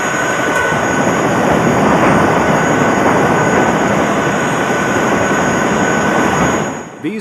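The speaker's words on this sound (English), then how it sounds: "the Vietnamese helicopter drops its load of rice and flies off empty" A Vietnamese military helicopter at Kontum in 1972 roars steadily and loudly overhead, a dense continuous engine and rotor rumble that fades away at the very end as it flies off.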